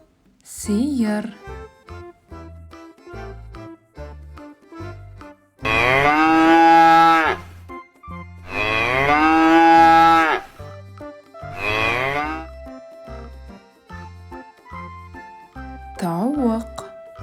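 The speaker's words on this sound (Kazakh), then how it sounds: "сиыр," Several long, loud cow moos sound up close with drawn-out harmonic calls, set against a steady rhythmic musical backing that runs through the whole stretch.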